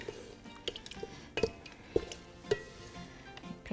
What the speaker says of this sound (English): Stir that in as well.